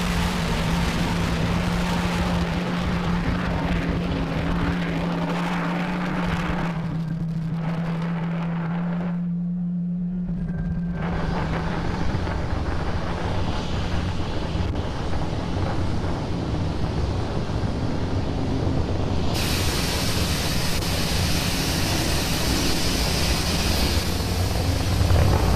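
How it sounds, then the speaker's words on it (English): SpaceX Falcon 9 rocket engines roar steadily after liftoff from pad 39A on a Starlink mission, a continuous broadband rumble heard from a distance with wind buffeting the microphone and no voices. "Falcon 9 has had a successful liftoff from pad 39A."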